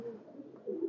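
A low pigeon coo, faint and brief, rising slightly toward its end, at a loft of red-necked highflyer pigeons in Khulna.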